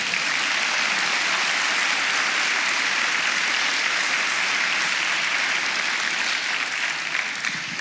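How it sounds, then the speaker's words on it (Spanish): A church congregation applauds the Lord in a steady, dense wash of clapping that stays loud and unbroken for the whole stretch, with no voices standing out. "Denle un aplauso al Señor."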